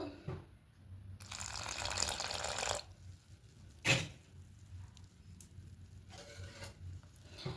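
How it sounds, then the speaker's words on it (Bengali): Water is poured into a bowl of batter for battered eggplant fritters, a loud splashing, mixing stretch followed by a sharp knock of a utensil against the bowl and softer stirring afterward, with no voices. "এবার এখানে অল্প অল্প জল দিয়ে একটা ঘন ব্যাটার তৈরি করব।"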